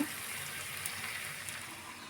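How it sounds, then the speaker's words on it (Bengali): Water being poured into a pot of pulao, giving a steady, moderately faint rushing and trickling wash with a light sizzle underneath, continuous and unbroken for its whole length, with no voices. "পোলাওয়ে পানি দিয়ে দিচ্ছি এখন"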